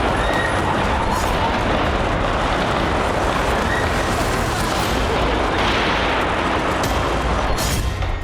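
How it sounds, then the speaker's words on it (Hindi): Dense, continuous crackling of gunfire as attackers shoot indiscriminately into a crowd at a city hall, with a few sharper bursts standing out from a steady roar. "हमलावरों ने भीड़ पर अंधाधुंध गोलियां चलाई"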